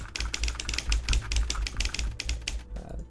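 Rapid typewriter-style key clacks from an Obsidian writing plugin, a dense close burst of keystrokes for nearly three seconds before stopping.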